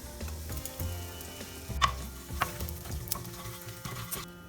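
Whole garam masala and asafoetida sizzle in oil over a medium-low flame for Bengali cholar dal, a soft steady crackle with stirring scrapes and a couple of sharp clinks, close and moderately quiet.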